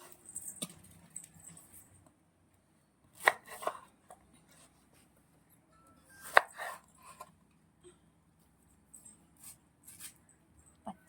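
A knife chopping green pineapple into small pieces on a board, a few sharp separate cuts spread out with quiet gaps between them, close by and without talk.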